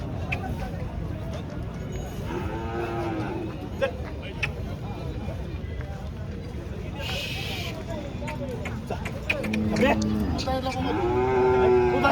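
Calf lowing at a busy bullock market in Pathardi, with several drawn-out moos rising over a steady crowd babble, the loudest calls coming near the end amid background talk.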